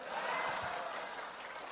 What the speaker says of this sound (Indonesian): Tepuk tangannya keras lagi.